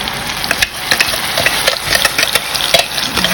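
Cooking oil sizzling in a pan for sautéing chili paste, a continuous loud crackling fry with frequent clinks and scrapes of a utensil against the pan, with no talking.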